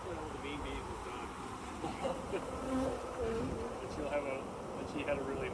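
Honeybees buzz steadily and close by while a hive is opened for inspection, a dense continuous insect drone with a few brief rising tones, and voices murmur faintly underneath.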